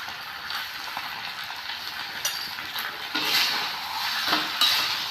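A spoon stirs Gobi Manchurian sauce in a pan while cornflour slurry goes in, giving soft scraping and clinking over a low sizzle, with a few louder clatters near the end and no voices.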